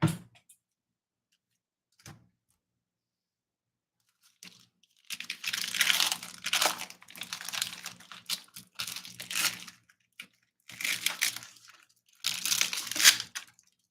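A plastic food package being opened while preparing a crunchy Thai-inspired vegan salad, close bursts of crinkling and rustling plastic in irregular clusters after a quiet start with a couple of faint knocks.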